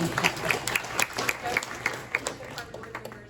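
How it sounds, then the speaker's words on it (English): A crowd at a town annual address in Nolensville claps in a brief, lively burst of applause, heard from within the room and fading over a few seconds. "let's give that a round of applause"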